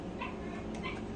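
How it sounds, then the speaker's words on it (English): Dogs barking outdoors, heard faintly from a distance as a couple of short yips over a steady background hum. "Excuse the barking, my boys are outside"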